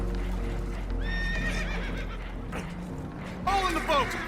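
Frightened horses in Red Dead Redemption 2 whinny and neigh loudly aboard a boat taking on water, with two shrill rising calls and splashy clatter under a busy game mix.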